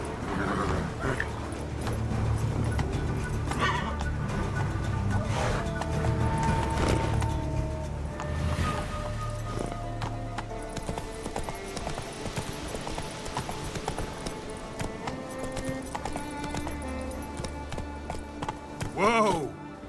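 Roach, a horse in The Witcher 3, gallops with a dense rhythmic beat of hooves under a loud orchestral score, ending in a brief burst near the close.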